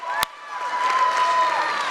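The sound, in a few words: audience applause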